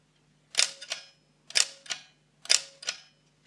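Three sharp mechanical double clicks from an Agfa Clack film camera shutter, each a snap followed by a softer second click, spaced about a second apart and close by, over quiet background hum.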